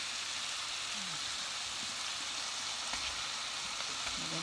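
Chicken pieces dropped into a hot pan for Filipino chicken pork adobo sa gata, a steady loud sizzle and crackle of frying oil that holds without pause for several seconds.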